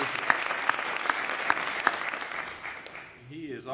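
Guests at a city iftar dinner applaud an imam with moderate, scattered clapping that fades out within a few seconds, followed by a voice beginning to speak.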